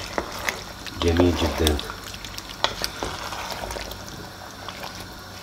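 Potatoes for an Aleppo-style potato musaqqa'a scrape and sizzle as they are stirred in a frying pan, with clattering turns and a low frying hiss while a person talks briefly.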